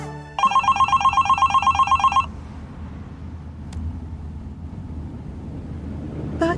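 A telephone bell rings loudly in a quick repeated trill for about two seconds near the start, then stops, leaving a low steady rumble of background noise with a faint swell at the end.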